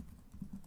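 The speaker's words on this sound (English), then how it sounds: "typing in our file name" Faint, quick keystrokes on a computer keyboard as a file name is typed, a soft scattering of clicks over less than a second.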